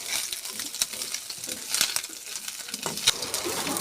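Tangra fish frying in a pan makes a crackling, spitting sizzle with scattered sharp pops, close and moderately loud, with no voices over it.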